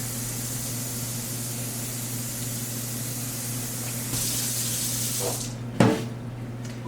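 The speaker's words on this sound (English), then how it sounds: "I'm gonna put some cold water in here." Cold tap water runs steadily into a pot of potatoes, a close hissing splash that shifts in tone near the end, followed by a brief clunk.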